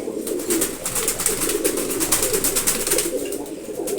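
A Giribaz pigeon gives steady, resonant coos in a continuous rolling pattern, close and fairly loud, with a busy chatter of other birds behind it.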